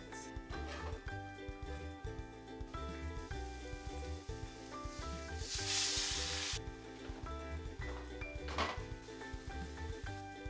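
Ground meat browning with half an onion in a pan gives a steady sizzle and frying crackle, heard under loud background music with a brief louder hiss midway.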